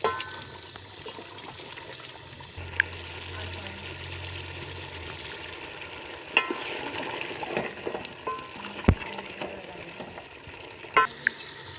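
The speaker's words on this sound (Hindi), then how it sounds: "अब इसे हम अच्छे से भून लेंगे।" Steady sizzling of meat frying in a pan for a Pakistani Eid curry, with occasional stirring clatter and faint background noise, continuing throughout.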